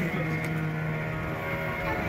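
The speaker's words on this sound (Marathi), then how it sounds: "बोट चालू करताय" A boat engine runs steadily just after starting, a close, droning hum with a constant low tone, continuous and unchanging throughout.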